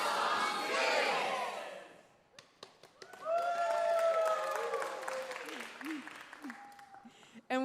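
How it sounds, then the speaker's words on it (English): A kids' audience at a WoodSongs Kids livestream cheering and clapping, a loud burst of crowd noise that fades, followed by scattered taps and a few voices calling out. "The line, then the cheering and the clapping."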